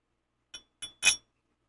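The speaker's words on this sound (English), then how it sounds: "And I've got my shot glass." A shot glass gives three quick, bright clinks, the last one loudest, against an otherwise silent background.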